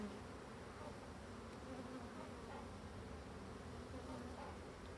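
An agitated colony of black bees buzzing during a hive inspection, a dense continuous hum of many wings, close and steady with no talk.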